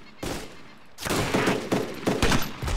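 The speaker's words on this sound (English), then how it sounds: "Getting shot at." Bursts of gunfire from the DayZ Origins video game: rapid, loud overlapping shots crackling in clustered volleys after a brief quiet opening, with no talking.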